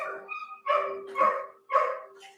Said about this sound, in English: you hear a dog in the background